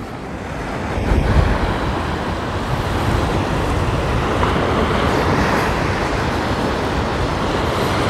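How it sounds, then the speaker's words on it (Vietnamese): Sea waves rolling onto a sandy beach at Hai Hau, Vietnam, a loud, steady broadband roar of surf that swells slightly early on and then holds constant throughout. "phải nói là cái bãi biển tuyệt vời ở đây"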